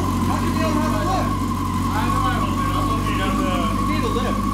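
A restored Yamaha R6 sport motorcycle idles steadily and close after a kick start, with a constant low hum and drone throughout and people talking over it.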